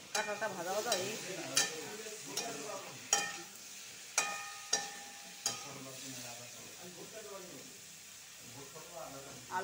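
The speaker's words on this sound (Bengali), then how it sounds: "কাঁঠালটা ভাজা ভাজা হয়ে গেছে।" Jackfruit fries in ghee in a pan for a jackfruit and potato curry, with a soft sizzle under a series of sharp metal spoon scrapes and taps every second or so, and a voice talking faintly at times.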